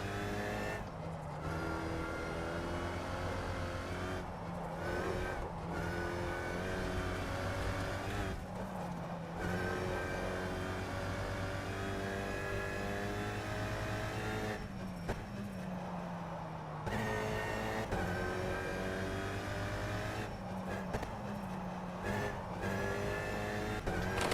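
A race car in the rFactor 2 racing simulator drives on, its engine revving steadily through gear changes while the tires squeal during drifts.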